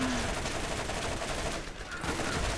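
Gunfire rattles steadily through a Borderlands co-op firefight, dense continuous shooting at moderate level with no clear gaps, alone without talk.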